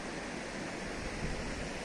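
River water flowing below a mountain road in Kashmir, a dense steady rushing roar heard at moderate level without a break.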